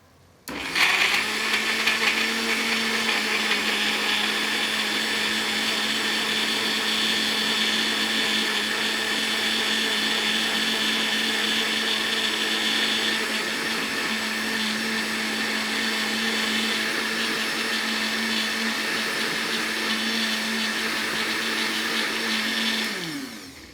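A blender whirs steadily through jollof rice ingredients, a loud, continuous motor drone with a sharp start that holds even for about twenty seconds before cutting off at the end, with no talking over it.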